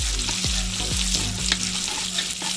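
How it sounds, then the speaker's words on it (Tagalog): Onion and garlic sauté in a hot pan for pancit canton guisado, a loud, continuous sizzle with repeated scraping stirs of a utensil against the pan, heard up close without any talking. "Gigisahin mo natin sibuyas."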